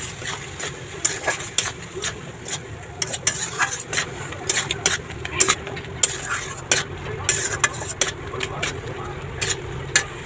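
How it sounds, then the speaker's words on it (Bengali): Spice masala of salt, turmeric and chilli powder frying in oil with a little water, with repeated scraping stirs and clatters against the pan over a low sizzle, plus some speech. "তোমার মশলাটা ভাজা প্রায় হয়ে গেছে, দেখো তেল ছেড়ে দিয়েছে মশলা"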